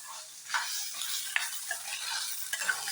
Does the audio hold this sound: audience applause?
no